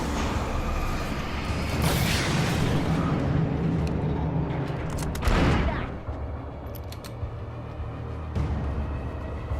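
Gunfire in the video game Alan Wake Remastered, a dense burst of loud shots and crackling blasts over a rumbling game soundscape, peaking midway then easing off.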